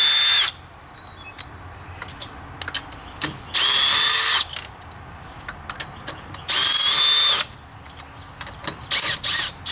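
Power tool zipping lug nuts off a car wheel during a tire rotation, three loud bursts of a few seconds each, separated by quieter clinks and handling noise.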